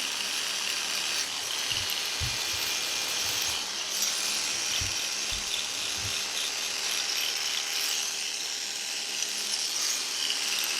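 A detachable electric hair clipper buzzes steadily and close while it fades hair, broken by a few soft low knocks and bumps. There is no talk.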